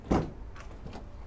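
The rear sliding door of a Hyundai Staria 2.2 CRDi van opens with a single short thud-and-slide at the start, followed by quieter rolling sounds as it travels, heard close up with no talking.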